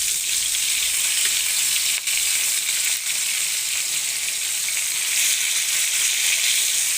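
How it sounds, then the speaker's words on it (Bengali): Hilsa fish frying in a pan, a loud steady hiss of hot oil that runs unbroken and close, with a couple of faint soft knocks partway through. "সুন্দর করে ভালো করে একটু ভেজে নেব মাছগুলো"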